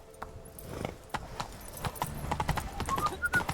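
Roach the horse gallops in The Witcher 3, a rhythmic run of hoof clip-clops that speeds up and grows denser, steady and fairly close, with game ambience underneath.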